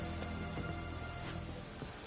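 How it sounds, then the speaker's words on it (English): Steady rain falling in The Witcher 3 video game, a continuous broadband hiss of drops on surfaces that stays even and moderately loud throughout, with no voices. "Or it's rain."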